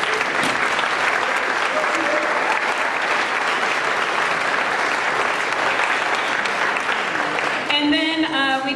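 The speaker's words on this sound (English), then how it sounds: "give them a round of applause" A school audience claps for middle school jazz band students, with steady, full applause throughout and a brief voice emerging near the end.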